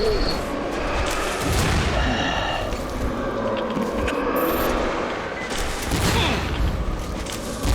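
Gunfire in the post-apocalyptic shooter Metro Exodus, dense and continuous, with rumbling booms and crackling shots merging into a loud, unbroken wall of noise.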